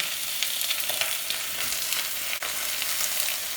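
Hard vegetables go into a pot where chicken is frying for a noodle soup, giving a dense, steady sizzle with light crackles and one sharp clunk midway, close and without voices.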